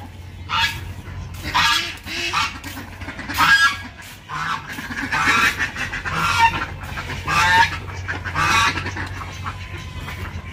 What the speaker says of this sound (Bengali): হাঁস ধরা দেখি আমার হাতে হাঁস